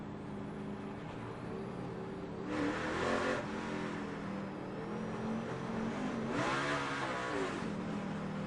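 NASCAR Cup stock cars at Dover in 2006 roaring past while racing back to the green flag, two loud surges of engine noise over a constant distant drone of racing motors.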